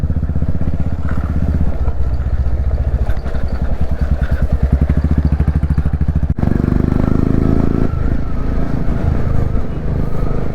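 A Royal Enfield Classic 350 Bullet motorcycle being ridden, its single-cylinder engine thumping in a steady low rhythm throughout, close and loud, with wind rush and some revving changes partway through.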